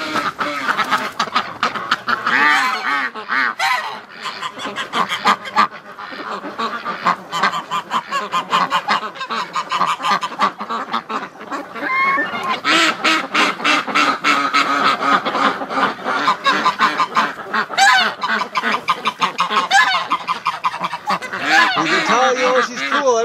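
Wintering ducks and geese crowded in a barn on a freezing morning, honking and quacking loudly and almost without pause, many birds calling over one another close by.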